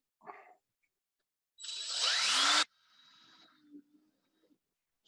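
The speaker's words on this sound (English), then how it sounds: "Just drill it out a little bit." A power drill with a 5/32 bit enlarges a hole in a handmade wooden fishing plug, a short burst of whirring and grinding for about a second, close by, framed by brief handling noises.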